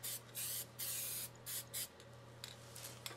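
Short bursts of polyurethane clear coat sprayed onto a canteen over black spray paint, several hissing puffs in quick succession, close and fairly quiet, with no talking.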